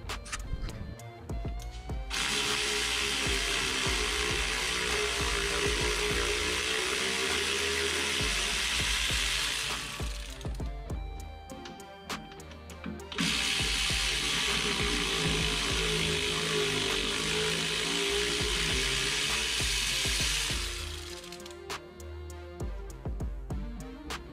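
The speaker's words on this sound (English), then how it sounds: "you can get a 9/16 socket in here, pull the nuts off, and you're good to go" Ratchet with a 9/16 socket taking nuts off the rear end of a 1968 Charger, two long runs of fast, close, loud clicking separated by a short pause.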